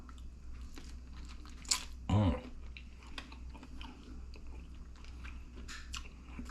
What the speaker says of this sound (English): Let's take a taste.